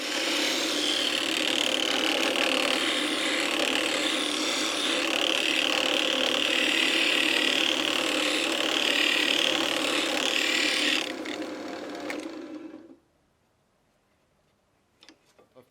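Hook knife being hollow ground on a grinder, the blade shifted across its width as the table is adjusted; a steady, loud abrasive grinding runs for about eleven seconds, then winds down and falls to near silence with a few faint ticks.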